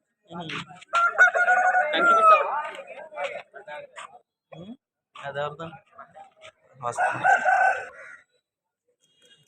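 Roosters crow loudly and close by at a rooster market in Vijayawada, several long drawn-out calls rising and falling with short pauses between them, while people talk nearby.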